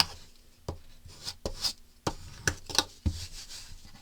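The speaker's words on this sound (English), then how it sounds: "we're going to fold that over and we're going to burnish that down nicely" Paper fold in a Z-fold journal pocket being burnished down by hand, a series of soft rubbing strokes and light taps in uneven rhythm, close and quiet, no talking.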